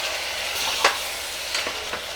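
Brinjals and masala sizzling in hot oil for a masala gutti vankaya curry: a steady broadband frying hiss with a few brief spatula scrapes and clicks, close and moderately loud, no talking.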